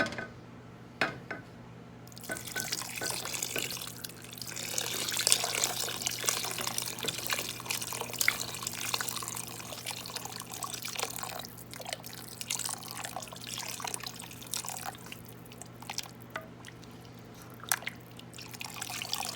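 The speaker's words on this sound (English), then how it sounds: "so now I'm going to put my beef broth in." Homemade beef stock, about six cups, being poured into a pot of cabbage roll soup, a soft continuous trickle and splash running at moderate level for most of the stretch, with no voices.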